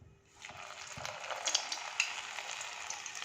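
Pieces of methi nimki go into hot oil and set off a quiet bubbling sizzle. It swells after a brief start and keeps crackling, with a few sharper pops.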